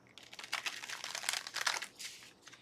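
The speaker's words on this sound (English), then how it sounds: "Just going to give one more shuffle." Rapid papery riffling of a deck of tarot cards being shuffled by hand, a dense flurry of crisp flicks and soft slaps, close and quiet with no voice.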